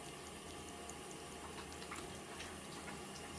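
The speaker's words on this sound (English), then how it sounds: "let's listen to the shower for a little bit." A running shower makes a steady, fairly faint hiss of spraying water that continues without a break.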